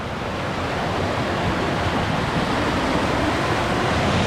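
Rushing water from a waterfall along the Falls Trail at Ricketts Glen in Pennsylvania, a steady, dense, close roar that holds level and unbroken throughout with no voices.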